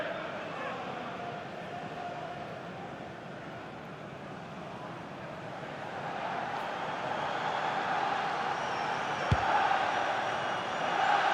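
A stadium crowd in a Premier League football simulation game, Manchester United against Bournemouth, gives a broad, steady roar that swells louder in the second half, with a single sharp thump near the end.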